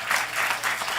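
A church congregation gives a short burst of dense, loud applause, a continuous wash of many hands clapping close by.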